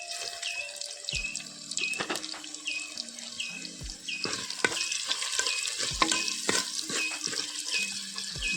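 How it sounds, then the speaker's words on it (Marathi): Mustard seeds crackle and spit in hot oil with sharp popping bursts scattered throughout, alongside metallic clinks of stirring and a faint background sizzle. "मोहरी ना ती बरी फटफटा होई अशी तडतड करून उडा होईल"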